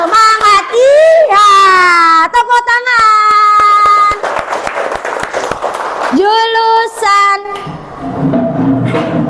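Children chanting and clapping the rhythmic 'tepuk semangat koboi' cheer in a classroom, with loud sung syllables punctuated by sharp unison claps, ending in a burst of shouting.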